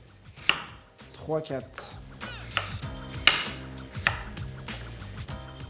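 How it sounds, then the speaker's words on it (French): Knife chopping apples into coarse chunks for homemade compote, a run of sharp, close thuds on a board at an uneven pace, with a voice counting briefly between cuts. "je vais les couper en morceaux, grossiers les morceaux"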